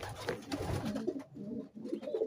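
Pigeons coo in soft, low, rolling calls, several overlapping and close by, with a brief pause before the cooing resumes.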